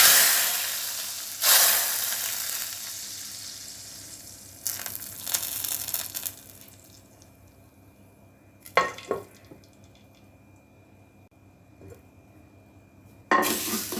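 Mustard seeds crackling and sizzling in hot oil while tempering a village-style dal soup, loud spluttering bursts that fade to a quiet hiss, with pan clinks in between.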